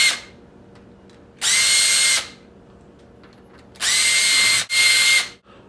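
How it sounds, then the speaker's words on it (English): A power drill backs out the catch screws of an old doorknob set, where one screw is stripped, in three close, loud high-pitched bursts: one about a second long, then two back to back with a brief pause between. "we're going to take out the catch screws."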